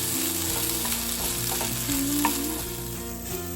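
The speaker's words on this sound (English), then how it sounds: "Be sure to cook the chorizo well, and I actually add some onions and some garlic" Cacique chorizo from a tube frying in a pan with white onions and garlic, a steady close sizzle with occasional stirring scrapes and a brief brighter tone near the middle.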